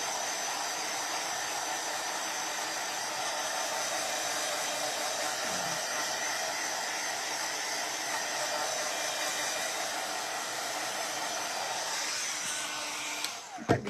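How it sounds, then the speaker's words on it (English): A hairdryer blows steadily on a craft project, a constant moderately loud whooshing hum that runs unbroken throughout, with a brief clatter at the very end. "sitting here holding a hairdryer or a heat tool"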